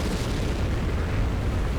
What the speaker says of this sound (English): I don't know why he's firing those shots in sniper mode on the move.